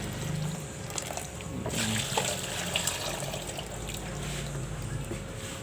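Tap water runs into a sink while chili leaves are rinsed under it, a close splashing rush with irregular trickles, drips and handling knocks as the leaves are moved through the stream.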